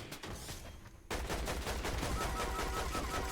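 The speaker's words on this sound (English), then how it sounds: "Try and shoot where the shots are coming from, if possible." Gunfire in the video game Fortnite: rapid shots crackle at first, then a loud, sustained burst of automatic fire runs continuously to the end.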